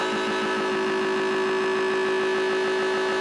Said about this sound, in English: This is the sound of the oscillator with the delay.